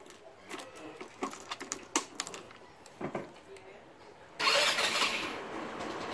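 A Motorstar Easyride 150N motorcycle with tubeless tires. Light clicks and handling noises come first, then the engine catches with one press and settles into a steady, close running roar.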